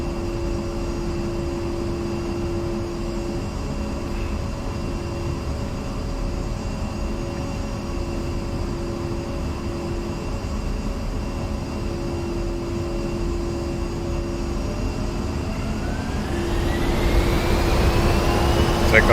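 Twin jet engines of an A-10C II Tank Killer in DCS World spooling up for takeoff: a steady roaring drone with a high whine, swelling louder and rising in pitch over the final few seconds.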